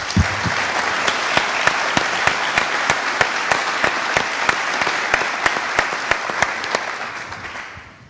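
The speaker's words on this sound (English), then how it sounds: "How about a nice round of applause for Andrew and Paul?" A debate audience for New Hampshire Republican candidates breaks into loud, sustained applause, dense clapping that holds steady for several seconds before tapering off, with no talking.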